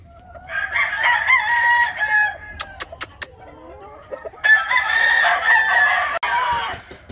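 A Stuart Yellow Leg Hatch gamecock crows twice at close range, each long, loud call separated by a few brief sharp knocks in between.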